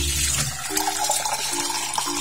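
Tap water runs steadily at close range in a home where mulberries are being handled, a continuous broadband wash with faint clinks near the start.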